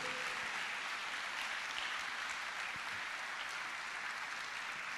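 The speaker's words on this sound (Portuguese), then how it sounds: "Quem pode aplaudir o Senhor por isso?" A church congregation at a worship meeting applauds in a steady, even wash of clapping that holds throughout, slightly distant and without audible speech.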